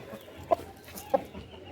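A rooster gives two short clucks, about half a second apart, close and fairly quiet against a soft background.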